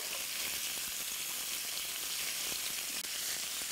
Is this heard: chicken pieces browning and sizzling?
yes